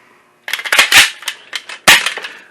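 A Dart Zone Storm Squad toy blaster is cocked and fired, making close, sharp plastic clacks and snaps in two quick clusters after a moment of silence.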